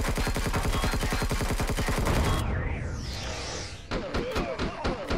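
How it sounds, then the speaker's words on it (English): Rapid automatic gunfire in the space survival game Empyrion Galactic Survival, a dense regular burst of shots for about two seconds, then a sweeping whoosh and a few scattered impacts and thuds. "we're getting shot by stuff"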